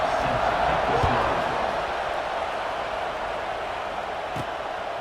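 Stadium crowd noise from a College Football 26 game at a Badgers home field, a broad steady roar of fans that stays constant through the clip with a couple of faint thumps.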